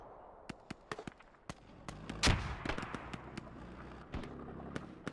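A grenade blast bursts loudly in a tactical shooter match, surrounded by rapid sharp gunshots that pop repeatedly before and after it, with a rumbling tail following the explosion.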